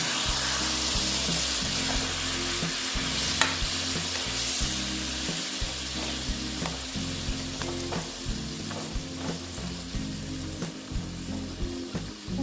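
Ash gourd sizzles and bubbles in a pan just after a little water is added, with a loud, steady hiss and repeated scraping stirs against the pan. Nobody talks.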